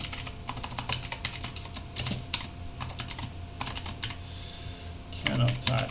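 Close, quick typing on a computer keyboard while writing C code, bursts of crisp clattering keystrokes with brief pauses, steady and fairly loud.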